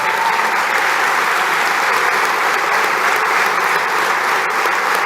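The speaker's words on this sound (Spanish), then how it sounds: "Un aplauso para Juan Gelman." Steady, loud applause from an audience at a university lecture hall event held at UNAM, dense clapping filling the whole stretch without pause.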